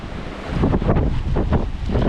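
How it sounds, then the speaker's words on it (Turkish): Steady wind blusters across the microphone while waves wash and slosh nearby on a choppy sea during fishing in Turkey, the roar swelling slightly after the first half second. "rüzgarlı havalar, dalgalı havalar, dalgalı deniz balık yapabiliyor"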